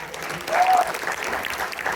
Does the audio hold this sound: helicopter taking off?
no